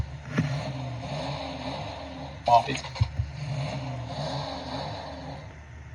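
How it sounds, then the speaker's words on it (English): A car starting sound effect plays from the Ontoys Blindfold Travel Cards game, a short engine start and rev heard close and at moderate volume, with a person speaking over part of it. "Here's the sound for start."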